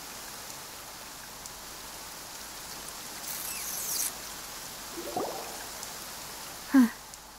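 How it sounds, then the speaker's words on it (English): Steady rain falls throughout a video game scene, a soft, even wash of drops on surfaces with a few faint brief knocks and one short louder tap near the end; no one speaks. "It's been raining non-stop for a few days now."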